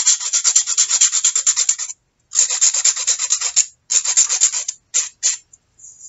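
Rough-grit sandpaper rubbed over a salt dough ornament in steady, rapid back-and-forth rasping strokes, close and fairly loud, in several bursts separated by short pauses, with no talking.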